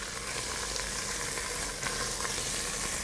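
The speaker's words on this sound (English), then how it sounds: "I can hear my chops sizzling away there" Pork chops sear in a hot pan with a dense, loud, unbroken sizzle and a fine crackle of spitting fat that carries on steadily from start to finish, with no voice.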